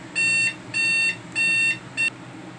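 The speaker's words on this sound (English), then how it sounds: "That was the alarm clock going off because I got to get ready to go to work soon." An alarm clock going off with four bursts of bright, high-pitched beeping, the last one shorter, loud and close with a faint low hum underneath and no talk.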